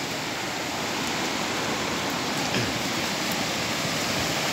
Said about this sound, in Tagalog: Malakas po ng tubig.